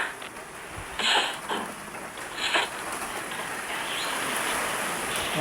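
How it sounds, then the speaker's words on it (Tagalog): Steady rain falls with a broad, even hiss throughout, with a few brief brighter splashes or patters near the start. "Ulan pa rin ngayon."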